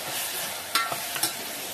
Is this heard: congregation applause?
no